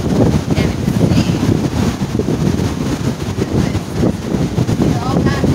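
Strong wind buffets the microphone on a beach at Lauderdale-By-The-Sea, with surf rumbling steadily underneath; loud, continuous gusting roar fills the whole stretch with no letup.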